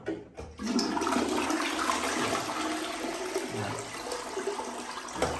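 A clogged toilet flush roars up loudly after a brief pause, churning and gurgling steadily with a sluggish, draining swirl that never quite clears.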